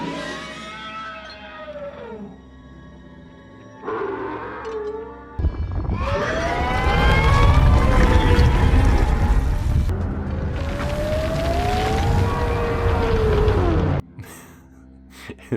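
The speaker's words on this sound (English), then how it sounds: "speaking of Krayt Dragon, we finally got what Obi-Wan was trying to do when he was making that noise" A Krayt dragon from Star Wars: The Mandalorian calls out in long, loud, wavering howls that bend upward and sag. Several drawn-out cries follow one another, resonant and roaring, with no talk over them.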